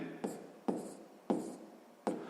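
A pen scratches out a maths solution on paper in four short, quiet strokes spaced about half a second apart.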